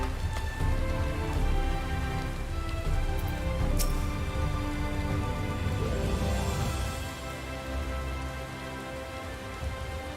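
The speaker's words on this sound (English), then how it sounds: "Raining." Steady rain in Final Fantasy XIV pours down on a surface, a dense continuous patter with a few sharper drips, unbroken and with no voices.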